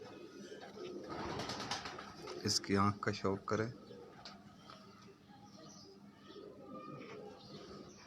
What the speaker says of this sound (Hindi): ये जी बड़ा ब्रीडर फिरोज़ा कबूतर है जी